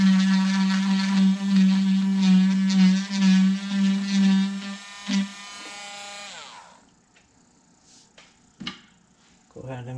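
A small rotary tool carving juniper bonsai deadwood buzzes loudly with a high, wavering whine as it bites in and out of the wood, then spins down and stops, leaving a few clicks and taps.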